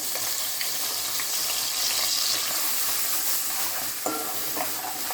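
Chopped green chillies and ground onion paste fry in hot oil for an Andhra-style egg and potato curry, giving a steady, dense sizzle with light stirring and scraping close by, and no talk.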